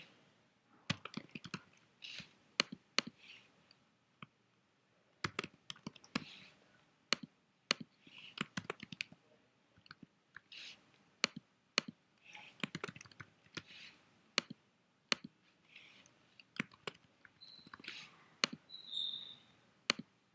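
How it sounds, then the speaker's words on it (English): Names are typed on a computer keyboard in a quiet room, in scattered bursts of crisp key clicks with short pauses between words, faint and close, with no talking. "I'm going to type various names to hide below"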